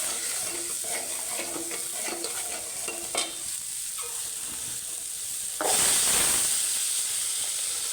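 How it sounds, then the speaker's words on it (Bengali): Shrimp and spices sauté in a pan for a curry with a steady, close sizzle and stirring scrapes. The hiss swells suddenly and loudly near the end. "সব মশলাপাতি দিয়ে এখন কষিয়ে নিচ্ছি, চিংড়ি মাছ দিয়ে।"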